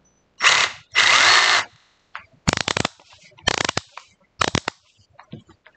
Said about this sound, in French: Là, je suis en mode je perce.